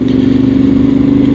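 Yamaha Tenere World Raid 2023 motorcycle engine running loud and close, a steady low rumbling drone with a pulsing throb and no talk.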